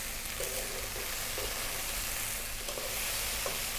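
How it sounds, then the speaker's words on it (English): Beef and soy sauce sizzle steadily in a pan over high heat, a dense, even frying hiss with faint stirring scrapes and no talk. "we're now going to drop in the soy, and again go for about another 3 minutes on a high heat"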